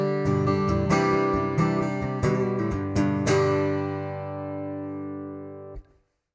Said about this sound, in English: so that's the sound of the face sensor brought in at 350 hertz.